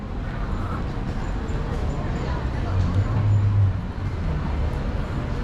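Steady street traffic rumbles through a busy Hangzhou shopping district, with car and bus engines passing close by and a low swell of engine noise near the middle, alongside faint crowd murmur and occasional speech.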